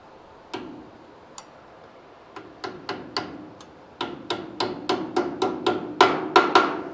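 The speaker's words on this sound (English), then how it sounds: "Let's tap in the clip." Sharp metallic taps from a small hammer tapping in a clip on a 1978 Dodge D200 truck, sparse at first then quickening into a steady run of close, ringing strikes that grow louder.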